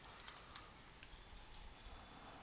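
Someone types a search into VS Code on a computer keyboard. A few quick, faint key clicks come first, then lighter scattered taps against a quiet background.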